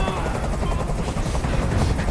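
Helicopter in the video game Detroit: Become Human, a steady, loud rotor roar filling the scene without pause, with gunfire-like crackle and faint voices mixed underneath.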